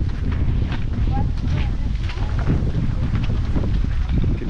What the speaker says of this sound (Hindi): तो अभी बहुत तेज हवा चलने लग गई यहाँ पर, बहुत तेज